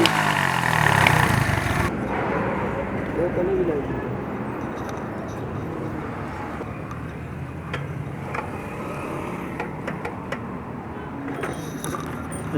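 A Honda CD 70 motorcycle with a misfiring engine idles nearby in a steady, uneven putter, with small ticks and irregular knocks running through the twelve seconds at a fairly constant level.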